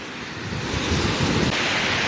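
Loud, close sea surf washing onto the rocky shore at Galle, a continuous broad rush that swells and breaks with some wind buffeting the microphone and no voices.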